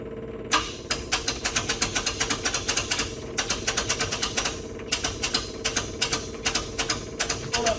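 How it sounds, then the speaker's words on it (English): Starter cranking over the 500ci engine in a 1962 Cadillac with no ignition hooked up, a rapid, even chugging pulse that begins abruptly, runs in two bursts with a short pause between, loud and close. "I'm gonna try cranking it over"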